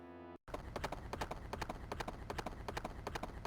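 Horse hooves gallop in the Shinobi 3 video game during a horseback auto-scrolling stage, a quick, even clip-clop rhythm repeating steadily and closely after a brief silent gap, with game music.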